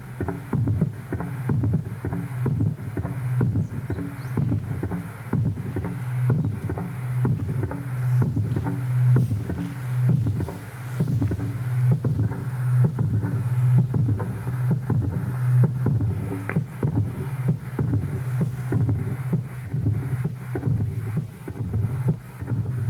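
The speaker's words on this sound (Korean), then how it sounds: "큰 엔진 기계가 돌아가는" A continuous low, rumbling engine drone with a steady rhythmic throb, loud and close, with wind-like noise over it.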